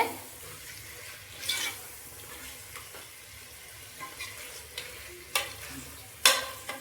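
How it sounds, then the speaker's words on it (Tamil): Chicken sizzles steadily in masala in a pan while a spoon stirs and scrapes, with occasional louder clinks against the metal. "சிக்கனையும் நல்லா இந்த மசாலாவோடு போட்டு நல்லா மசாலா சிக்கனில் ஸ்ப்ரெட் ஆகிற அளவுக்கு நல்லா வதக்கிட்டு"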